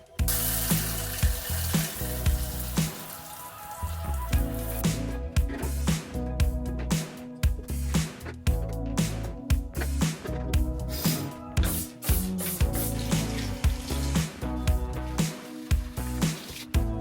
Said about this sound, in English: gonna turn on the water and we can see all the dirt wash away